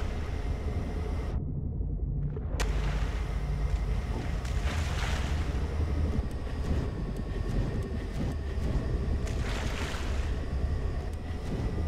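An amphibious car built in Scrap Mechanic Survival, fitted with level 5 jet engines and thrusters, churns through water with a steady roaring rumble and washing surf, with a short dropout near the start.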